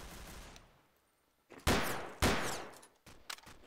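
Semi-automatic gunfire in Garry's Mod: a few sharp separate shots, two loud ones spaced apart and then a fainter pair, each cut short.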